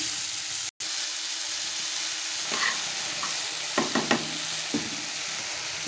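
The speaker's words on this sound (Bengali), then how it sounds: "কিছুটা কালো জিরা ফোড়ন দিয়ে দিলাম একটা শুকনো লঙ্কা ফোড়ন দিলাম কাঁচা লঙ্কাও দিয়ে দিলাম" Nigella seeds with dried and green chillies sizzle in hot oil for a Bengali kalmi greens dish, a steady close frying hiss broken by a brief dropout and a few sharp spattering pops near the end.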